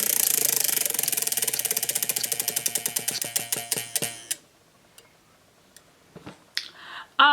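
A spinning prize wheel for picking books to read ticks rapidly at first, the clicks slowing and spreading out until it stops, followed by a few scattered handling knocks.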